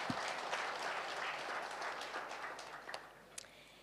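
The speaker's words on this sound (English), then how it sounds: "Can we please give him another round of applause?" A gala dinner audience at a labour law seminar applauds a professor with dense, sustained clapping that fills the room and slowly thins toward the end.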